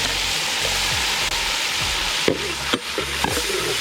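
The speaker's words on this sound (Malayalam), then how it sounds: "നല്ലപോലെ ഇളക്കി കൊടുക്കാം." Chopped onions frying and sizzling in a pan after mustard seeds, stirred with a few scraping knocks over steady close hiss, for a Kerala tapioca and tuna fish head curry.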